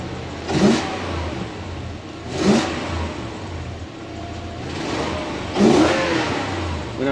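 A 2013 Toyota Hilux fitted with a 3UZ V8 engine, revved three times in sharp, spaced bursts over a steady idle, loud and close.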